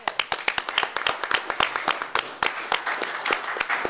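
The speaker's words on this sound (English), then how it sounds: "Let's give him a round of applause." A small group claps for someone at a school board meeting, sharp distinct handclaps in a brisk, uneven rhythm, fairly close and steady for several seconds.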